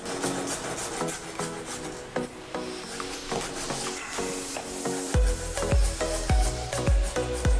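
A knife cuts ingredients finely into julienne strips, giving quiet, rapid scraping strokes that turn into a run of distinct knocks on the board near the end.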